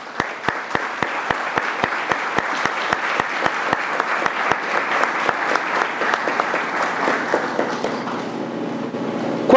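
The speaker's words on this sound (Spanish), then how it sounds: "Y quisiera que le diéramos un aplauso a don Luis Guillermo por eso." Sustained audience applause at an international law symposium, a large crowd clapping loud and dense for several seconds before fading out toward the end, with sharp individual claps standing out.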